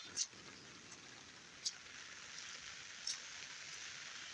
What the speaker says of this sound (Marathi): आता थोडा रिमझिम पाऊस चालू आहे